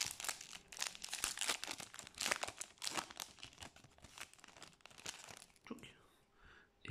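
Trading card booster pack being torn open, a close, busy run of crinkling foil wrapper and ripping, loud crackles packed together, then a quieter pause near the end, with a voice speaking briefly.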